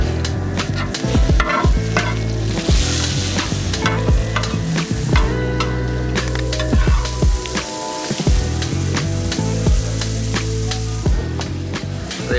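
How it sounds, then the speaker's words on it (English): Liver, heart and meat fry and get stirred on a very large flat tray in Cairo, with steady loud sizzling and rhythmic scraping and clanking of utensils throughout, no talk. "they're gonna cook it right in front of us"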